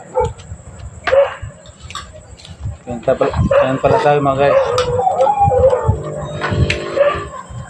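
Dogs barking and howling outdoors on a busy Saturday evening at a family home, with loud yips mixed among people talking close by and chatter over a steady background hum.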